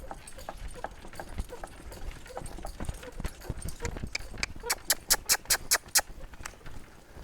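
A driving horse moves out at a steady pace, her hooves clip-clopping in a clear rhythm that grows louder and sharper near the end, with faint background noise and no talk.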